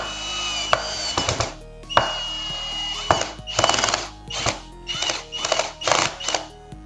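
A cordless screwdriver drives a screw into wood in a string of short, loud motor whirs broken by pauses, each burst rising and stopping sharply, close to the ear.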